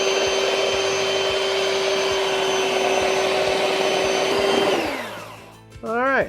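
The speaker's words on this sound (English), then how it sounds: "Now take a hand mixer and mix everything thoroughly." An electric hand mixer on low whips batter with a steady, loud motor whine and faint rhythmic ticking, then winds down and stops near the end, followed by a short clatter.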